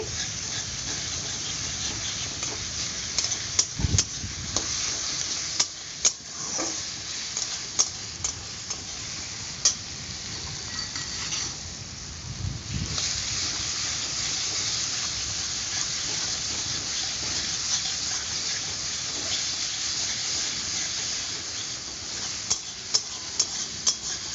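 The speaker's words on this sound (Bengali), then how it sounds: "এখন মশলাটাকে আমি খুব ভালো মতো কষাচ্ছি" Masala spice paste being stir-fried with fried onions in a pan, a steady close sizzle and hiss broken by repeated scraping and clicking of a spoon against the pan, with no voices.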